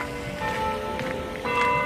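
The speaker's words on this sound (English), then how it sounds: "The bells, the bells." Bells ring faintly in the distance, their sustained tones hanging over a soft outdoor background at Tivoli Gardens, Copenhagen, in winter.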